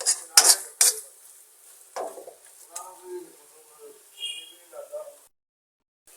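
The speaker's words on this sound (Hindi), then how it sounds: "आपने इसको आहिस्ता आहिस्ता चलाना है आपने।" Carrot halwa being stirred slowly in a pan: metal spoon scrapes and clinks against the pan, several sharp at first and then softer, heard up close with a faint sizzle.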